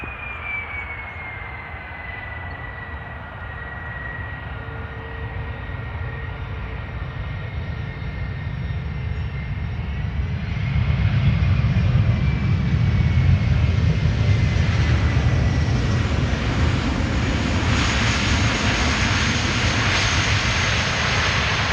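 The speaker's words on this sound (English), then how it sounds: "Airbus A330-300." A KLM Airbus A330-300 airliner, first flown in March 2011, roars at Amsterdam Schiphol with a sustained engine whine and deep rumble that swells noticeably louder about halfway through and stays strong to the end.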